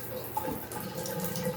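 Hot water runs from a newly installed Delta shower valve, a steady close hiss of flowing water with faint clatter, short and continuous.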